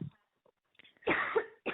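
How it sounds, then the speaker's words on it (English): A couple of harsh, raspy coughs burst out close by after a short quiet pause, with softer breathy sounds in between. "I got a cough."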